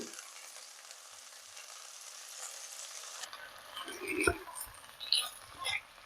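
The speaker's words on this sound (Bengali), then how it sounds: "দিয়ে দিচ্ছি চালগুলো, যে আমি আগে থেকে ভিজিয়ে রেখেছিলাম 1 ঘন্টার মতো" Pre-soaked Dehradun rice tipped into a pan of frying aloo-tomato pulao base: quiet sizzle at first, then soft scraping, stirring and clinking of a spatula, close but low in level, with no talking.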